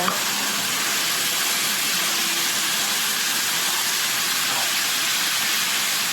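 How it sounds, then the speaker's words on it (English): Beef sautéing in a pan for lasagne, a steady broadband sizzle with a hissing wash that runs unbroken and fairly loud throughout, close up, with no one talking over it. "you want to saute your beef until all the juices dries out and you get that nice brown bit"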